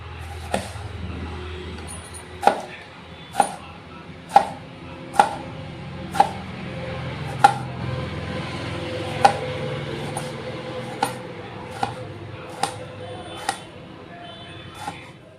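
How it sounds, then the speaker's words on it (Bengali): A tomato is chopped on a board for mushur dal chorchori, the knife striking in a steady run of sharp, close chops about once a second, with faint talk underneath. "আমি ডাল চচ্চড়ির মধ্যে দিয়ে দিব টমেটো একটা কুচি করে নিমু"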